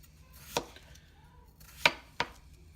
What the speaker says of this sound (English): So what I'm going to do is just cut the potato like this.